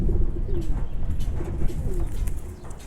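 Silver pigeons coo in low, throaty rolls, several calls repeating close by against a steady background hum, with no one speaking.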